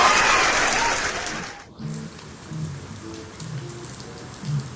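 Rain falls steadily and loudly at first on an outdoor housing site in Park Serpong, then drops to a softer patter with faint low voices beneath.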